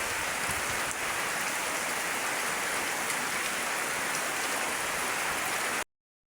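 Steady, heavy rain pours down in a dense, even hiss that continues without a break and then stops abruptly near the end.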